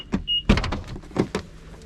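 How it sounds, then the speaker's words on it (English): A frozen BMW 435i door is worked open in a few quick mechanical clunks and clicks, one brief whirring motor tone before them, close and fairly loud with no talk. "Let's see if we can get the door open"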